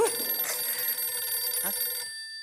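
Telephone ringing steadily with a continuous electronic ring in a sitcom office scene, ending abruptly near the close.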